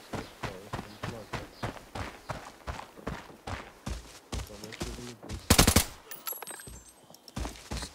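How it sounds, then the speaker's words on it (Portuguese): Gunfire in the tactical shooter Arena Breakout, rapid bursts of shots pulsing throughout, with a louder, sharper burst near the end. "Eu ouvi tiro ali, velho."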